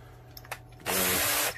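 A power drill bores into a lump of lead for a handmade fishing lure, a few light taps and then a loud steady whirring burst lasting about half a second before stopping.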